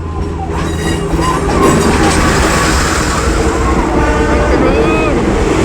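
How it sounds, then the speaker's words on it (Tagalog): A Philippine National Railways train passing in Taguig gives a loud, steady rumble with whistle-like tonal streaks and a blaring horn early on, continuous throughout. "Bye-bye, train."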